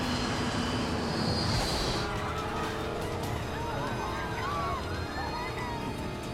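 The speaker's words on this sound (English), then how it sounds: "The plane is losing altitude and falling out of the sky." A stricken passenger jet carrying 31,000 kilograms of jet fuel loses altitude and falls from the sky, a steady loud roar of engine and rushing air with a brief high whine early on, filling the whole stretch without speech.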